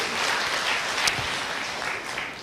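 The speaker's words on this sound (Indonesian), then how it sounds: "Berikan tepuk tangan yang meriah buat Tuhan." A church congregation applauds, a dense, sustained wash of many hands clapping in a reverberant room, fairly loud and steady for a couple of seconds before easing slightly.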